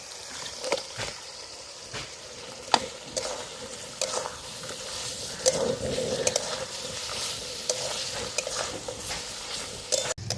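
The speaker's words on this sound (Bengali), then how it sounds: "মশলাটা ভালোভাবে কষিয়ে নিয়েছি সুন্দর একটা গন্ধ বেরিয়ে গেছে এবার ভেজে রাখা মাছগুলো দিয়ে দেবো" Fried giant freshwater prawns go into sizzling spice paste in a pan for prawn rezala. A steady close sizzle runs throughout, broken by scraping stirs and occasional sharp clinks, with no talk.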